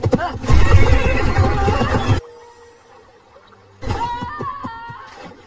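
A horse lets out a loud, close whinny lasting about two seconds, followed by a quiet pause and then people talking.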